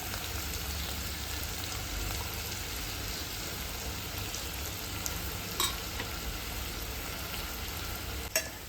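Onion and tomato for pav bhaji sauté in a pan, a steady, dense frying hiss with a low hum beneath and only occasional faint clicks of a spoon, close and without speech.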